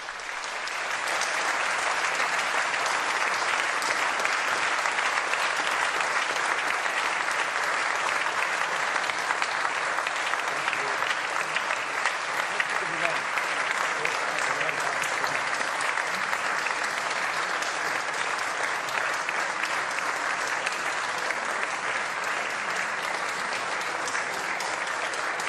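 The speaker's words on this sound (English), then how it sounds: "sustained applause for Pope Francis's speech here at the Catholic University of Leuven." Sustained applause from an audience at the Catholic University of Leuven after Pope Francis's speech to university professors, a dense, even wash of clapping that holds steady throughout.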